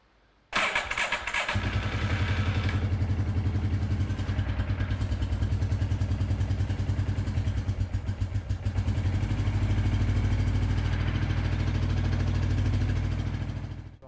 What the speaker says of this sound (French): Pour cela, le moteur doit tourner. Je vais donc le démarrer.